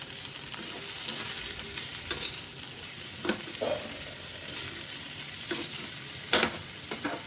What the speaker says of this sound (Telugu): మళ్ళీ ఒకసారి అన్నీ కలుపుకుంటున్నాను.